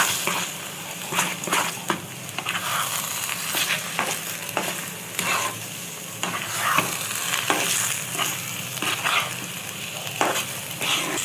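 A spatula stirs thick mashed taro (colocasia) in a wok over heat, steady scraping strokes with soft sizzling and repeated clacks against the pan, close and continuous with no talk.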